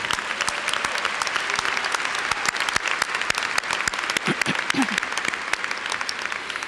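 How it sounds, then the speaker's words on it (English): Audience applause for a college chamber choir at a community college graduation ceremony, a sustained dense wash of many hands clapping that fills the hall evenly, with a few sharper individual claps standing out near the end. "Let's give them a round of applause"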